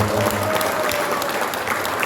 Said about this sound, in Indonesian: Kita kasih aplaus tepuk tangan untuk seluruh jajaran panitia